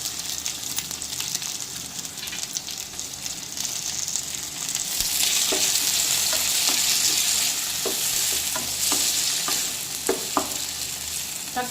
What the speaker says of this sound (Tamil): இப்போ இது கூட தக்காளி பழம் 2 பழுத்த தக்காளி பழத்தை இது கூட ஆட் பண்ணி கிளறி விட்டுக்கலாம்.